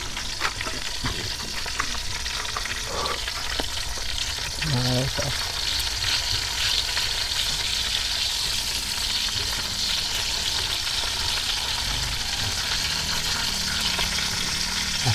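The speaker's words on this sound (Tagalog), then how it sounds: "baka luto na ang aking piniprito" Food frying in a pan sizzles loudly and continuously, with brief stirring clatter early on.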